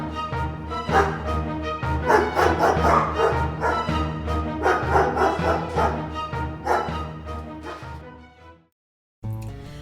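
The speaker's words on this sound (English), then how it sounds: "Platt runs, but Tibeats and the Bayou's slave hunting dogs quickly catch up" Several slave-hunting dogs bark and yelp excitedly in a dense, overlapping flurry, loud and close, before a short silence and another burst.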